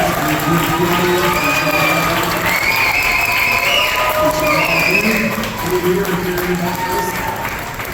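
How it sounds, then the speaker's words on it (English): Steady crowd applause with clapping and scattered cheers after a congressional candidate debate forum in Fort Myers, loud and sustained throughout, voices mixed in the busy noise. "let's give them all a big round of applause for participating tonight"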